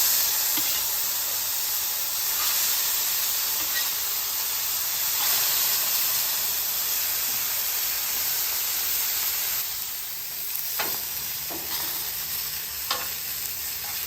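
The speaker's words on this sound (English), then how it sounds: "Put those steaks down." Steaks sizzle steadily on a flat-top griddle set up for smoking meat, a loud continuous frying hiss running throughout with a few brief spatter crackles near the end.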